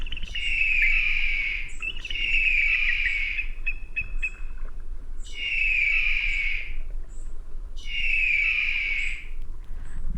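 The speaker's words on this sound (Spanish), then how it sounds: "águila," Repeated bird calls from an eagle, set among animal sounds for children: four loud, bright shrieking cries, each about a second long and evenly spaced, with a short chirp between the first two.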